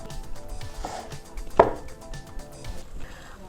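A knife chops a baked sausage roll into bite-sized bits on a board, giving quick close cutting strokes and one sharper thud partway through, over a light kitchen background with no voices.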